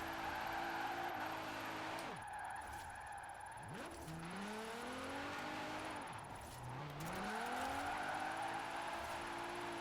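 A rear-wheel-drive hatchback with a GTR engine of 1,000+ horsepower accelerates hard in Forza Horizon 4, revving up through several gears with rising engine pitch and quick drops at each shift, loud and close with no talking.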